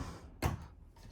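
A storage drawer in a 2025 Brinkley Model Z 3515 fifth-wheel RV is pulled open with one short, muffled thud and slide, close by in a quiet interior.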